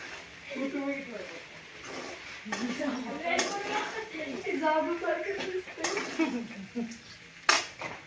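Sabudana khichdi is stirred and sautéed in a pan, with a spoon scraping and clinking against the metal under someone talking throughout, ending in a sharper knock.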